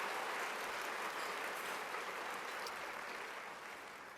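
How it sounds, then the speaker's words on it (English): Sustained audience applause at a charity luncheon and silent auction, a steady wash of many hands clapping that holds evenly and then tapers slightly toward the end, with no voices over it. "Can we have another round of applause for our Power of the Purse co-chairs?"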